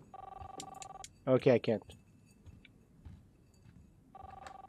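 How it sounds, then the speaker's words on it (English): An old-style telephone bell rings in Life is Strange, two bursts of ringing separated by a pause, with a person speaking briefly between them. "Wait, can I answer the fucking phone?"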